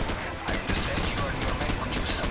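Dense automatic gunfire from the Call of Duty 4: Modern Warfare video game, rapid overlapping bursts filling the whole stretch at steady loudness, with battle noise and some voices mixed in.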